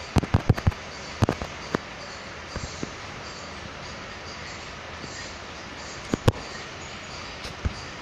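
Gunfire in a video game aimed at an enemy car cracks in scattered sharp bursts, a few quick shots clustered at a time, over a steady engine-like hum with no talking.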